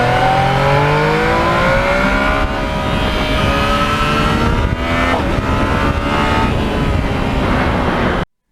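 A Yamaha MT-09 motorcycle engine is held wide open, loud and close, its pitch climbing through repeated rising sweeps before the sound cuts off abruptly near the end, with no talk over it.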